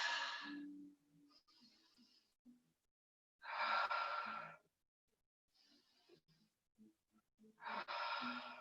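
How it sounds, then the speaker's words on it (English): Deep breathing during a yoga class: three loud, close inhalations or exhalations spaced a few seconds apart, with quieter breaths and faint rustling between them. "And breathe."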